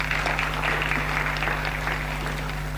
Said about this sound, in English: I believe they all deserve one more round of applause.